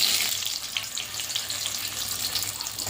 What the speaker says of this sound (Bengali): মাংসের তেলটা গরম করে নিয়েছি, এবার আলুগুলো ছাড়বো।